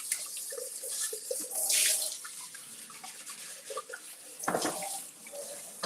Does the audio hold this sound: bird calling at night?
no